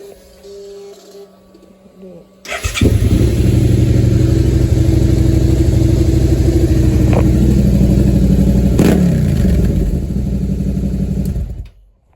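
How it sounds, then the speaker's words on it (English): A 2020 Suzuki SV650 motorcycle engine idles loudly and raspily, its exhaust baffle removed, running steadily for several seconds before cutting off abruptly. "Let you guys hear how it sounds really quick."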